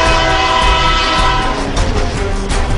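A train passes a road crossing, its loud, sustained horn blaring close by over the rumble and clatter of the rail cars.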